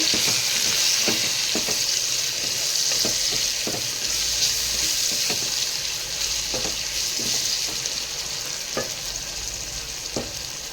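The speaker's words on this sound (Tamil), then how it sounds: "இந்த காய்கறி எல்லாத்தையுமே இதில் ஆட் பண்ணிக்கலாம். நல்லா தக்காளி வெங்காயம் சேர்த்து" Vegetables frying with tomato and onion in a pan for vegetable biryani give a continuous close sizzle, broken by regular scraping clicks of stirring throughout.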